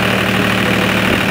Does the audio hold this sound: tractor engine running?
yes